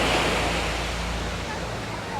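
Ocean waves breaking on Da Nang beach, a loud continuous surf wash with wind noise and no pauses.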